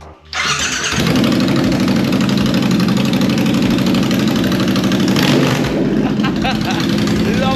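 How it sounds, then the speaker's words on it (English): A motorbike with a custom exhaust cranks and fires up, then settles into a loud, rumbling idle close by with a steady throbbing pulse. Voices can be heard faintly under the engine. "Come and help me start this bike."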